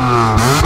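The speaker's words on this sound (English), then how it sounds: "It's proper E46 rasp." A BMW E46 fitted with a Scorpion exhaust revs up close and loud, giving a brief, raspy engine note that climbs in pitch.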